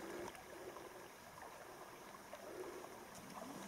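Clear creek water runs steadily over stones in a forest setting in the Otways, a soft, faint and continuous babble with no other sounds over it.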